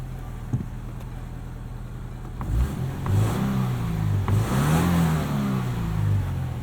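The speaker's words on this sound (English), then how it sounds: "Some nice boxer rumble under the hood" The 2.0-litre flat-four boxer engine of a 2018 Subaru Crosstrek with a 6-speed manual cranks and catches, then settles into a low, lumpy idle with a few throttle blips rising and falling in pitch, close by.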